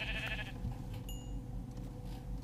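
Sheep bleating in the Minecraft video game, a short nasal bleat near the start followed by a quieter game ambience with a small chime, fairly faint overall and without speech.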